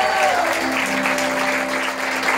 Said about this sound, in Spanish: Un aplauso para los chalupones.